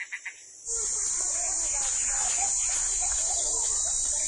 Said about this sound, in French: Le bruit appétissant des cigales parvient jusqu'au gang du musée.